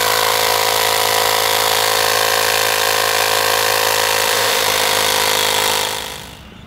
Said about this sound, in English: We ran the motor during the initial inflation so that we could pop the bead with a higher pump RPM.